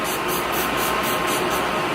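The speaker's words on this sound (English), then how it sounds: "I am going to be using the All Nighter Setting Spray" All Nighter setting spray, a sample-size bottle of makeup setting mist, is sprayed close up in a continuous loud hiss of repeated quick pumps, with no voices.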